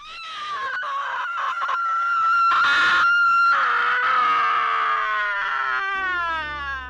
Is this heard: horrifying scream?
yes